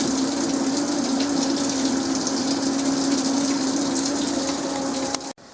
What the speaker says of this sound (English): I just do that and go start. And it will start washing.